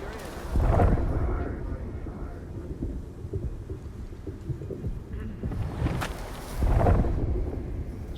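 Thunderstorm in the video game Unknown 9: Awakening, with two loud rolling thunder swells rising and fading over a constant windy, stormy rumble.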